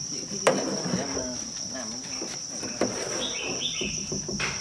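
Crickets on a cricket-breeding farm give a steady, high, unbroken chirring drone, with a few faint clicks and knocks scattered underneath.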